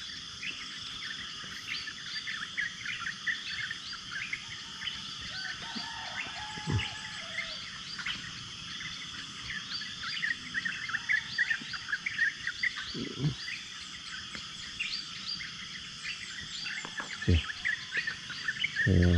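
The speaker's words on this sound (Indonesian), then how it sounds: "Enjoy bunyi burung. Ada burung tu atas pokok tu." Birds sing from trees at the Gunung Tahan viewpoint, with continuous high chirping and trilling calls layered over a steady insect drone, fairly faint and distant in an open forest setting, with a few soft low knocks.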